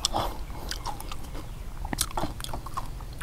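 Crispy fried pork belly being bitten and chewed up close, with crunchy bursts of crackling repeated through the stretch over a steady low background, and no talking.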